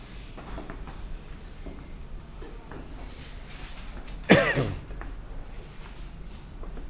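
A single sharp, loud cough from a person bursts out once partway through, over a steady low background hum.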